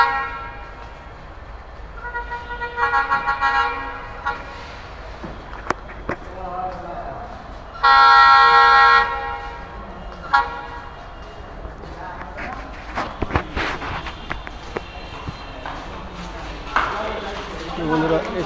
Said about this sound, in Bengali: আজকে আমাদের একটা ট্রেন রেডি হয়েছে যে ঢাকার যে ছাড়বে